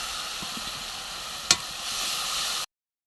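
Mustard and poppy seed paste hits hot spiced oil in a pan for Bengali bata fish curry, giving a steady broad sizzle with one sharp clink about midway before falling silent.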